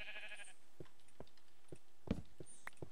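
A short Minecraft sheep bleat is heard at the start, followed by scattered soft clicks and thumps against a quiet background.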